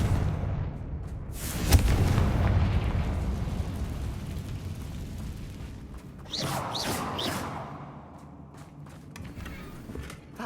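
Confringo spell explosions blast in the Hogwarts Legacy video game: a heavy, booming burst erupts early and rumbles on, followed by a few sharper crackling hits later as the roar fades.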